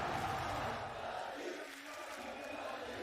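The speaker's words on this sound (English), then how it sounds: "The crowd getting behind Fnatic right now, certainly giving them energy." A crowd at a Valorant esports match, the VCT Champions 2022 game between Fnatic and XSET on Pearl, roars and cheers steadily from start to finish as a dense, sustained wash of many voices with no single speaker standing out.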